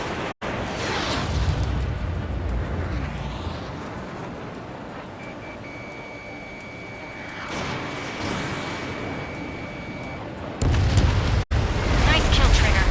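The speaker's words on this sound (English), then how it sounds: "Mage 1 launching missile" Fighter jets roar in the Ace Combat 7 flight game as a missile launches and explosions boom, a dense loud rumble with a rushing whoosh, a long thin tone in the middle and heavy blasts near the end.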